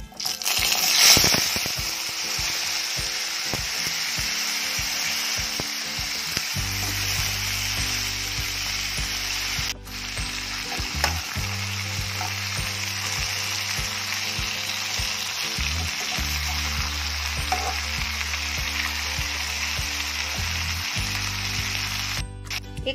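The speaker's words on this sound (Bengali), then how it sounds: "সবজিগুলো ভাজা হয়ে গেছে" Vegetables for khichuri sizzle and fry steadily in a pan after a tempering of dried red chillies and bay leaves, a continuous close hiss with faint stirring, interrupted briefly partway through.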